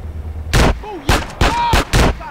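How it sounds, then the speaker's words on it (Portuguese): Four sharp, loud shotgun blasts in GTA San Andreas, spaced about half a second apart. A faint musical tone sounds between them. "desta vez eu tenho a shotgun"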